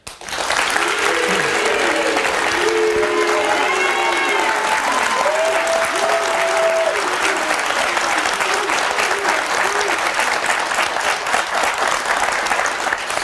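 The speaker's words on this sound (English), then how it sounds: "you got 200 people applauding you right now" A studio audience of about 200 people applauds a guest on a daytime talk show, a dense, steady clapping that fills the room from start to finish, with some voices mixed in.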